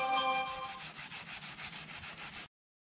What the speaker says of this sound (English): You already tell the difference between scrubbing and getting the gunk off there.